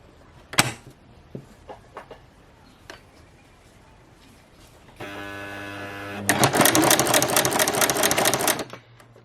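A sewing machine stitches a fabric banner for a market stall. Quiet clicks and handling noises come first, then the motor hums and a fast, even stitching chatter runs loud for about three seconds before stopping.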